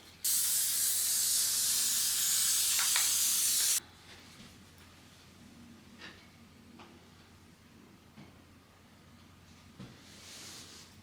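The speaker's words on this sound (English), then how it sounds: "Basting spray." A loud, steady aerosol basting spray hisses close by onto fabric for about three seconds, then stops, leaving faint rustling and light handling sounds.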